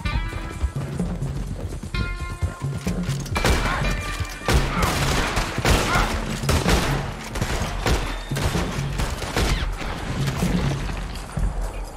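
A Red Dead Redemption 2 shootout with sharp, rapid gunshots cracking in dense volleys, interspersed with hoofbeats and rumbling, loud and near for the whole stretch.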